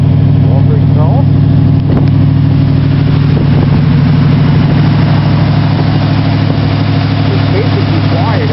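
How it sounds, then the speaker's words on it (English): Willys engine idling cold on choke through a Walker exhaust, a loud, steady low rumble with an even pulsing beat close by, with someone speaking faintly over it. "the car is cold because it is running on choke"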